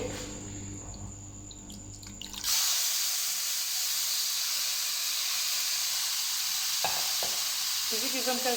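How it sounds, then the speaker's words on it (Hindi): Marinated chicken hits a hot non-stick frying pan with no extra oil, bursting into a loud, steady sizzle that stays constant to the end, with a faint stir or scrape near the close. "एक नॉन स्टिक फ्राई पैन के अंदर मैरिनेट किए हुए चिकन ऐड करेंगे"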